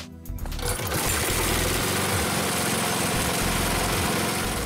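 An older gas-powered lawnmower engine runs steadily and loudly close by, with a continuous droning rumble and no speech.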